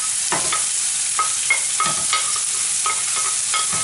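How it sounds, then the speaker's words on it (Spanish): Chopped peppers, onions, garlic and a bay leaf fry in oil for an arroz meloso, a loud continuous sizzle with rhythmic scraping stirs of a utensil against the pan. "Ahora en el mismo aceite voy a poner el pimiento que ya tengo picado, las cebollas, los ajos, la hoja de laurel"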